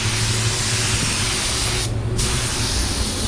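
Metallic pearl paint goes on as a light coat in one continuous, close, loud spray hiss, with a brief dip in the middle.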